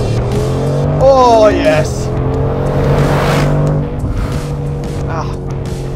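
A 2020 Mercedes-AMG G63 with a 4-litre engine accelerates, its engine note rising in pitch through a quick rev before settling into a steady drone, with a brief spoken exclamation inside the cabin.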